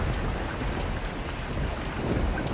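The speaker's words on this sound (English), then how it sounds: "And it's raining!" Rain in the video game Bliss, a loud, dense, steady hiss of downpour that stays constant throughout, with no voices.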